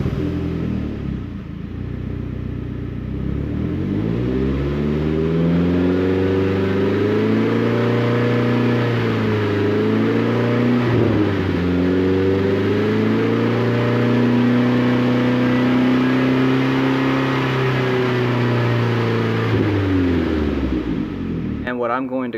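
A Saab car engine revs steadily in the 3,000 to 5,000 RPM range, a continuous loud drone with rising and falling harmonics throughout, with only short dips.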